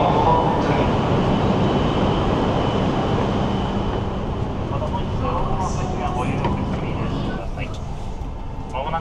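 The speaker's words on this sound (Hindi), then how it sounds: "ये भाई देखिए ट्रेन की स्पीड 322 ये चल रही है अभी 313" High-speed train running at over 300 km/h in Japan, heard from inside the carriage as a steady broadband rushing roar, with a voice talking over it near the end.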